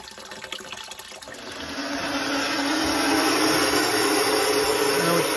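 A Burnham steam boiler fills with water as a broad rushing hiss builds over the first couple of seconds, then holds steady and loud to the end.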